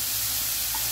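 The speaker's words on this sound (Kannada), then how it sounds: "ಈಗ ನಾನು ಸೊಪ್ಪು ಹಾಕ್ತೇನೆ, ಎಣ್ಣೆ ಕಾಯ್ತಾ ಬಂತು" Fenugreek leaves dropped into hot oil on high flame for malai methi matar gravy, giving a loud, steady close sizzle and hiss that fills the whole moment with no talk.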